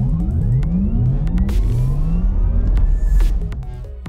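Porsche Taycan Cross Turismo electric car launching from a standstill with launch control, a loud rising motor whine with road rumble that builds for several seconds, then eases off.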